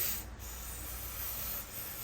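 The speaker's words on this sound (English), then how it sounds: "So just use some brake clean, start spraying away." Brake cleaner sprays steadily onto the transmission of a Honda Civic Mugen Si during a twin-disc clutch install, a continuous close hiss lasting the whole moment with no talk.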